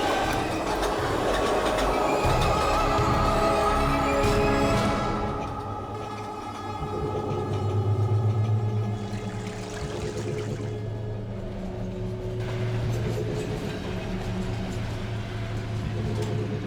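Train rolling past on railway tracks in a dramatic night scene, a dense continuous rumble and rattle that peaks loud early, fades slightly, then swells again across the whole stretch.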